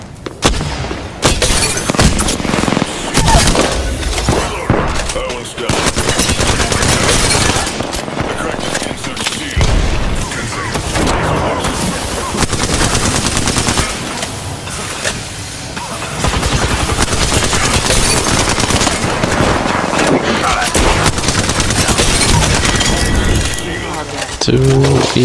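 Loud, dense gunfire in the battle royale shooter Apex Legends, with sustained automatic bursts, cracks and booms layered together nearly throughout, a few brief lulls between heavy volleys, and game voice lines now and then.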